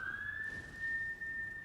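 A siren in Dark Souls 3 gameplay, a thin sustained high tone that holds steadily over a low rumbling game background, fairly faint and alone.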